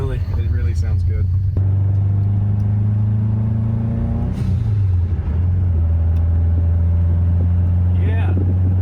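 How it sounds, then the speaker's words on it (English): A Subaru car engine idles nearby with a steady low rumbling hum and a brief shift in pitch midway, while several people talk over it. "Your car sounds good"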